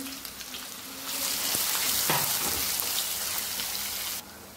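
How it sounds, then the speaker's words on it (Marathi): Finely chopped onion added to hot oil for an egg spinach curry, a loud hissing sizzle rising suddenly after a quieter start, holding steady, then dropping off abruptly near the end. "कांदाही आपल्याला व्यवस्थित भाजून घ्यायचा आहे।"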